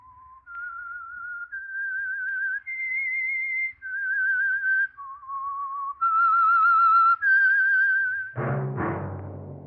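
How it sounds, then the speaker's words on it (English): A clear solo whistled melody plays the opening theme of The Whistler radio show, a slow rising and falling tune of long sustained notes, ending in a sudden brighter musical sting. "That whistle is your signal for the Signal Oil Program, The Whistler."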